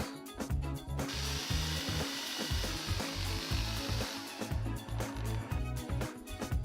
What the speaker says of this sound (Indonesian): bor sekrup ke dalam plastik klip hingga menembus joist